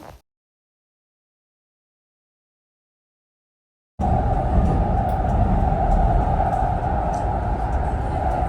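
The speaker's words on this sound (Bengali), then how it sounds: "ওয়েট করতে করতে মেট্রো চলে আসছে, তো আমরা এখন হচ্ছে মেট্রো উঠে পড়বো।" A metro train arrives at a station abroad, its loud sustained rumble and droning hum starting abruptly after a long silent gap and continuing steadily to the end, with no speech over it.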